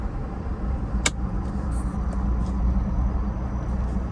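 A 2021-2022 Ford Bronco drives with a steady low road rumble heard from inside the cabin, with a single sharp click near the start.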